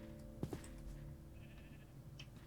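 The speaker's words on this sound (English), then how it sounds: "Don't you run away from me, young sheep." A young sheep bleats in the Minecraft mod TerraFirmaCraft, a quiet, brief call at low volume over a faint game background hum.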